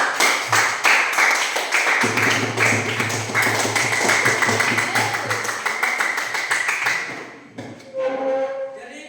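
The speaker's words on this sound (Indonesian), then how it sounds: "Ya, berikan tepuk tangan kepada mereka." An audience claps for a presenting group in a classroom session on taxation, with dense, lively hand-clapping for about seven seconds that then stops, followed by a brief voice.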